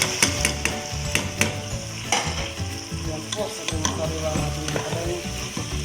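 Sliced bitter gourd (ampalaya) sizzles and fries in a hot pan while a utensil stirs and scrapes, producing repeated clattering taps over a constant crackling sizzle.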